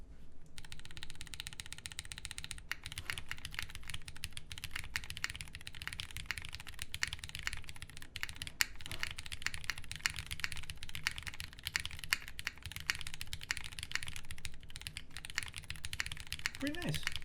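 Steady, fast typing on a Flame 60% keyboard with light tactile switches, GMK Olivia keycaps and no foam, giving continuous close, crisp clacking throughout.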